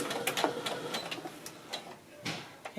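A Baby Lock Brilliant sewing machine runs and trims its threads, giving a quick series of light mechanical clicks and taps at close range, fairly quiet and uneven in rhythm.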